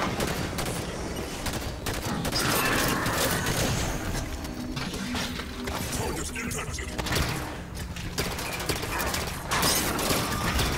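A three-round burst pistol fires repeatedly in the video game Halo 5: Guardians amid dense, loud multiplayer combat, with rapid clattering shots and mechanical noise running continuously throughout.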